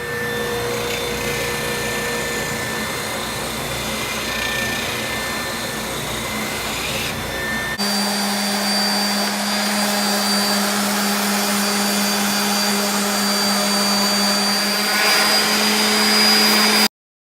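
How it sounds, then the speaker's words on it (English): Sander running continuously to clean up a wooden bass bridge on a custom bajo: loud, steady motor whir with a hum, close by, shifting pitch partway through as the wood is worked, then cutting off. "So let's move over to the sander and get it cleaned up."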